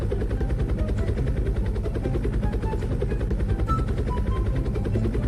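Helicopter in the Roblox game Dusty Trip, a junk-built chopper flying with a steady, loud rotor thump and engine drone that holds constant throughout.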